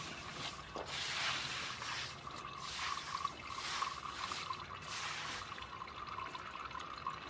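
Sludge water from the bottom of a biochar and alpaca manure mix drains off into a container, making a quiet, uneven trickle and splash that swells and fades in a few soft surges.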